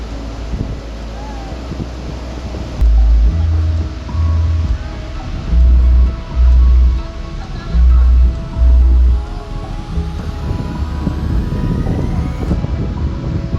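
Surf and wind at Pulau Merah beach near Banyuwangi: a constant wash of waves under heavy wind, with several loud, low gusts buffeting the microphone in bursts.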